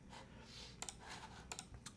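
Typing on a custom ISO top-mount mechanical keyboard with WS Quartz switches, PBT keycaps, an aluminium plate and mid-plate foam gives sharp, close clacks in quick irregular bursts over a quiet background.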